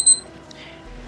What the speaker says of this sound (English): And somebody set the timer again.